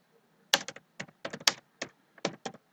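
Typing on a computer keyboard while entering dates in an Excel spreadsheet: bursts of close, crisp key taps in irregular clusters, with no talking.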